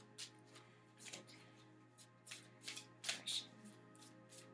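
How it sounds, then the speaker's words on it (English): Cards are shuffled repeatedly, brisk riffling bursts in an uneven rhythm, close by and quiet over a faint steady hum. "now I truly will shuffle my cards here"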